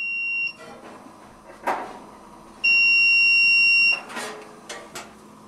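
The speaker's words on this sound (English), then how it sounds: "Beeping indicates they're good." A digital multimeter gives continuity beeps while it tests a Kenmore HE2/HE3 dryer thermal fuse. First a short beep, then a longer steady tone more than a second long, with small clicks and handling noise from the probes between them.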